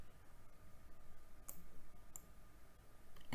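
Two or three crisp, isolated mouse clicks while formatting shapes on a computer, close but quiet against a low, steady background.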